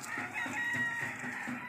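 A breeding rooster gives a short crow, close and fairly clear, alone with no talking over it.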